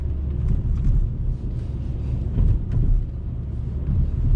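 A VW Jetta engine hums with a low, steady rumble from inside the cabin while driving above 2500 rpm, joined by faint road noise throughout.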